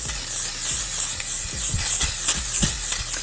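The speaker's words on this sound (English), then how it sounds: "I am going to use my L'Oreal Infallible 3-second setting mist" L'Oreal Infallible 3-second setting mist sprayed over finished face makeup, a continuous close, loud fine hiss with several brief stronger pulses and faint handling taps underneath.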